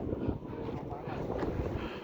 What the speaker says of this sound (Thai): เฮ้ยลมแม่งมาข้างหลังแล้วเนี่ย